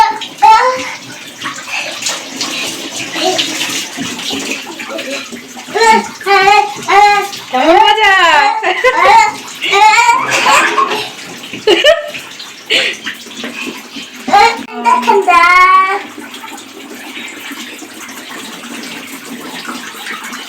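Water pours and splashes over a child being bathed, a loud, steady gush with bursts of splashing, while a child and an adult talk and call out over it.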